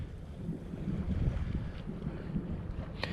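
Wind buffets steadily and close while sailing a gaff-rigged boat, a continuous low rumbling rush with gusty swells and faint water sounds, no talking.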